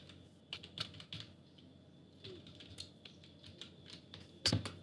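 Someone types a VLOOKUP spreadsheet formula on a computer keyboard, giving a quiet, close series of irregular key clicks with brief pauses and one sharper, louder keystroke near the end.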